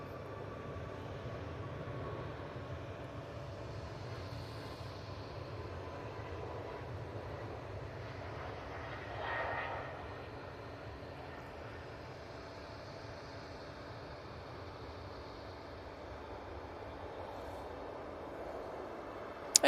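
An Icelandair airliner rumbles at Manchester Airport as a steady, distant low engine drone that lingers evenly, with a slight swell midway and no talking.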